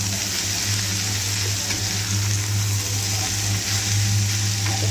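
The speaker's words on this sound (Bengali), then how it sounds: "ওই যে সজনাটা কেটে রাখছিলাম ওটা ভাজছি।" Sliced drumstick (sajna) fries in a pan, a steady close sizzling hiss over a low continuous hum, with no one speaking.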